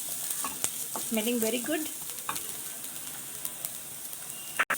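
Ginger and garlic frying in a pan while being stirred for samosa filling, a steady sizzle with scraping spoon strokes, and a brief spoken remark partway through.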